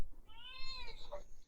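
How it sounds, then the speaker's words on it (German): A cat gives a single drawn-out meow with a rising then falling tone, clear over a soft background hum, heard alone with no talk. "Sie macht nur kurz Miau."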